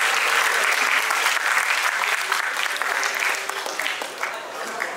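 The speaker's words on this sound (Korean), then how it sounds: "다시 한번 뜨거운 박수 부탁드립니다." A school lecture audience gives sustained applause to welcome a guest speaker, dense clapping filling the hall and slowly thinning toward the end.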